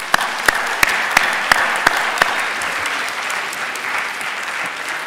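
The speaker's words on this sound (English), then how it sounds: "Let's give them a round of applause" An audience at a Take Back the Night evening program claps in steady, full applause, with a few sharp, louder claps standing out early on over the continuous wash.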